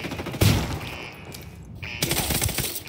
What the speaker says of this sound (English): Opening fire on these fuckers.